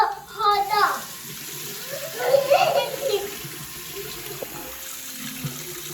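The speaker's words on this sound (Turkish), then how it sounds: "De ki arkadaşlar böyle elimizi yıkayacağız." Running water from a tap splashes over hands being washed of watercolour paint, a steady close flow while a child and an adult talk over it.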